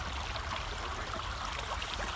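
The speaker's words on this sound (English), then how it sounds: "so now we're at the waterfall" Creek water flows steadily at a small woodland waterfall, a soft, continuous rushing and trickling close by with no voices.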